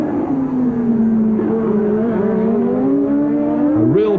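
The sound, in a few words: Formula 1 cars racing, Renault, Brabham and Ferrari, Detroit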